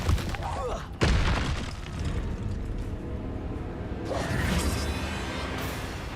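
Expulso explosion spell cast in Hogwarts Legacy, with two loud booming blasts about three seconds apart, each trailing into rumbling debris beneath ongoing game noise.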